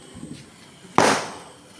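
A paranki firecracker set off at a family Vishu celebration bursts once with a sharp, loud bang that decays quickly, after a short quiet lead-in.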